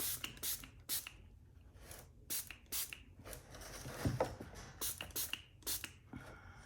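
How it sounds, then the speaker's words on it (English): A spray bottle spritzes water onto Rockwell self-evolving mineral paint in a Peach Fairy colour. The sharp, close hisses come in quick bursts, roughly a dozen of them, with small handling noises in between. "Let's spritz this Peach Fairy and see what it does."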